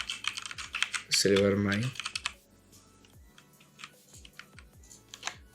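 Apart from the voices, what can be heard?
typing text on a computer keyboard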